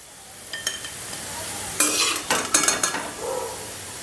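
Cashews and raisins lifted out of hot oil in a pan after light frying, with scraping stir and metal utensil clinks over a soft sizzle, clattering bursts in the middle then quieter frying.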